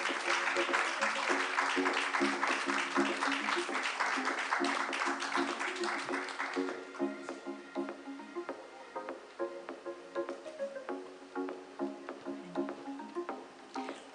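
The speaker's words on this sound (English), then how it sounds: "Please give them a big round of applause." A conference audience at the SIGNIS World Congress 2022 in Seoul claps as speakers come onto the stage. The applause is full at first, then thins after about seven seconds into scattered, fading claps.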